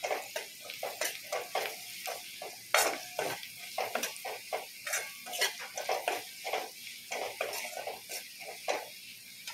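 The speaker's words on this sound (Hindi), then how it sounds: "अब इनको 1 मिनट भून लेते हैं।" Turmeric and Kashmiri red chilli powder fry in a pan while a spoon stirs them, giving a steady sizzle broken by frequent scraping and tapping strokes, close and fairly prominent.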